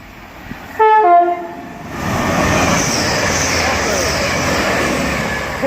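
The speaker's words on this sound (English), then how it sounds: "the next train to pass by is going to be a non-stopper class Adelante 180" A Class 180 Adelante diesel train blares a loud two-tone horn, then roars past non-stop through Hadley Wood station in the evening, a sustained rushing rumble that holds for several seconds.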